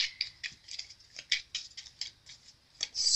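Tarot cards being shuffled in the hands, a rapid run of crisp papery riffles and slaps in uneven bursts, close and fairly quiet, with no talking.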